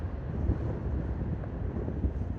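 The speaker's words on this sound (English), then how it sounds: "Wind's coming right across the beach here." Gusty evening wind blows across a beach on Anglesey with a small surf running, buffeting the microphone in a steady, loud low rumble with brief stronger gusts and no voices.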